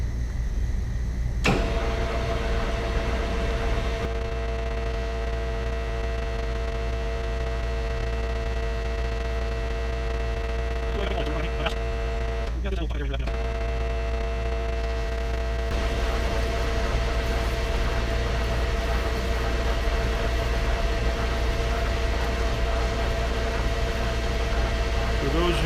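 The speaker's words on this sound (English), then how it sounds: "the lathe is from Precision Matthews. It's made in Taiwan" A Taiwan-made Precision Matthews metal lathe faces off a 9-inch Ford axle part, a steady motor hum and whine running throughout with a brief clatter near the middle, no talking.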